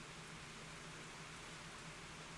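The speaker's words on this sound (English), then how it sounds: "we have got really torrential rain" Torrential rain pours down in a continuous, even hiss of dense drops, fairly faint and unbroken, with no voices over it.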